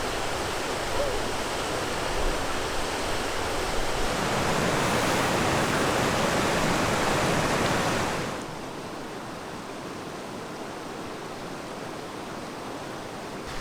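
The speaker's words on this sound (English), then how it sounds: "the sheer size and amount of waterfalls in the river" Steady, roaring rush of a river waterfall fills the clip, loud and broadband, dropping to a slightly quieter constant roar partway through.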